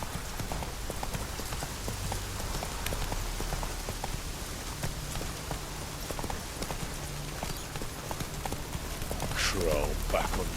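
Geralt's horse Roach galloping in The Witcher 3, a rapid continuous hoof rhythm over rainy ambience, with a short voice near the end.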